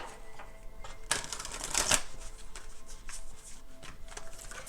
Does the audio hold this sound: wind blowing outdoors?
no